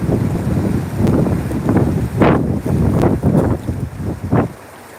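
Strong sea wind roars across the microphone in heavy gusts on open water ahead of Super Typhoon Krathon in Taiwan, with loud buffeting swells rising and falling and no one speaking.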